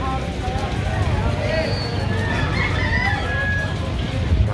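Chickens cluck and a rooster crows amid a busy, noisy outdoor street-vendor raid scene in Manila, with voices talking in the background throughout.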